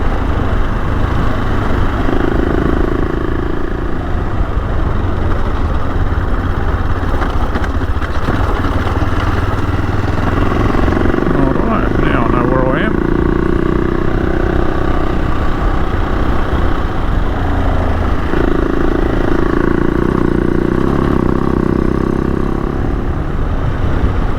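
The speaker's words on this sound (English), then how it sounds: "Really interesting how well this bike handles the corrugations." A motorcycle rides over a corrugated gravel and clay road in hilly red-soil country, its engine droning loud and steady throughout with a rattling, bumpy rumble from the rough surface.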